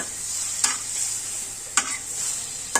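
Red chicken meat bhuna frying in a pan with a little water added, a steady sizzle running throughout with three distinct scrapes of stirring spaced apart, close and moderately loud.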